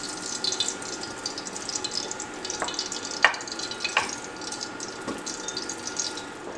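Vegetables sweating in oil in a pan for a smoked sausage and potato casserole, giving a steady soft sizzle with a few sharper pops and stirring clicks, close and continuous with no talking.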